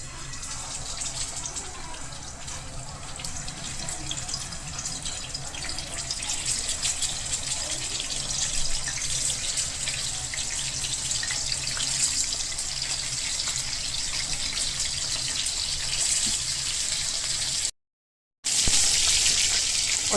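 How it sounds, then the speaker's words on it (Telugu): Pieces of chicken fry in hot oil toward a golden crust for mandi, a continuous bright crackling sizzle at an even level, close by, with no one speaking. "అదే ఆయిల్ వాడి ఇప్పుడు చికెన్ మనం ఫ్రై చేసుకుందాం గోల్డెన్ క్రస్ట్ వచ్చే వరకు"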